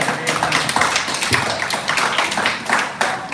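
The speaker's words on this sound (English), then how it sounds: "Clap it up." A group of kids, teens and adults at a jiu-jitsu and MMA gym claps hands together in a steady, dense burst of applause, loud and close, with no talking over it.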